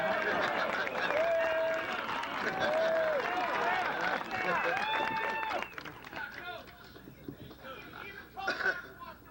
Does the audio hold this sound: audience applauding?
yes